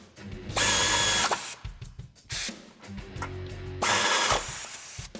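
Power impact tool driving bumper bolts into a Jeep Wrangler JK frame with a 16 mm socket, three loud bursts of rapid ratcheting hammering separated by shorter buzzes and clanks, close up.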